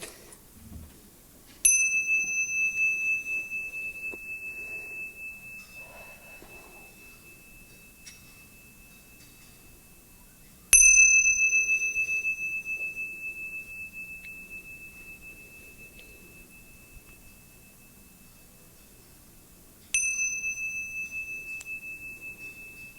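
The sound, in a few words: meditation bell ringing and fading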